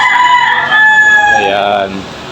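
A gamecock crows loud and close in a treatment area for fighting roosters, one long drawn-out cock-a-doodle-doo that falls away at the end.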